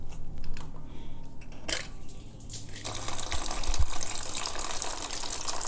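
Old coolant from a 2003-2006 Honda CBR 600RR sportbike radiator pours out with the cap removed, a steady splashing gush into a container, close and fairly quiet, louder and brighter in the second half.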